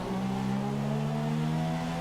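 An F1 race car engine in the F1 2017 video game at Monaco holds a steady high drone with clear tonal harmonics, sustained and even throughout with no talk.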